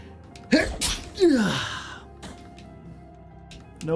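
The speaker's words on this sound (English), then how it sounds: "No fair, I sneezed." A single sharp human sneeze bursts out near and loud, followed by a breathy, falling gasp-like exhale, then quiet with faint clicks and a brief vocal sound at the end.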